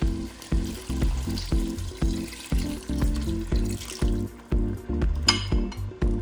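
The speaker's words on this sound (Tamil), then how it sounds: "இறால் எல்லாம் வதங்கி கொண்டிருக்குது" Prawns sauté in a pan for prawn biryani, a soft sizzle under rhythmic stirring scrapes that repeat steadily, close and moderately loud, with no talking.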